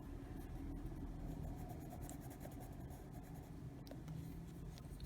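Colored pencil pressed hard on paper to lay down solid black, a steady soft scratching and rubbing of close strokes continuing throughout, faint and without talk.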